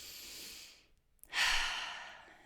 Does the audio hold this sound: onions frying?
no